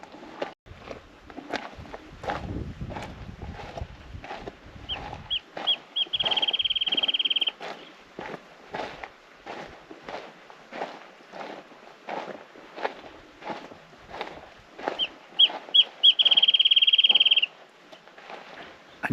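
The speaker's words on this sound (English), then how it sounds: "Another crazy sounding bird." An unusual bird at Pinnacles National Park gives two sustained, high, piercing calls, each opening with a few quick stuttered notes, while footsteps crunch steadily and close by throughout.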